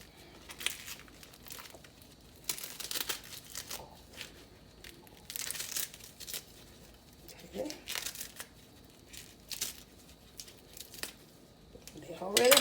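Collard greens are cut by hand in a series of crisp crunching, tearing strokes at an uneven pace, close and fairly quiet, with someone talking throughout.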